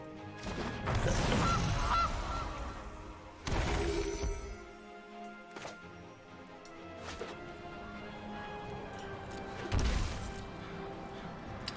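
In the MTG Arena card game, a goose honks as a sound effect, a few loud nasal honks early on amid game effect noises, followed by sharp crashing hits and a quieter stretch of background tones.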